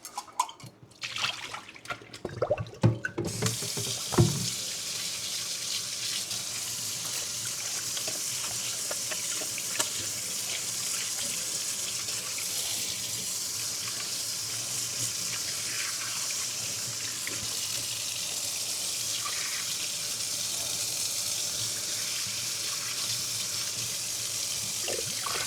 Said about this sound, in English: Time to clean the water.